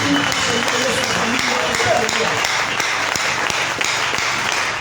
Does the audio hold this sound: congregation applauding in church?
yes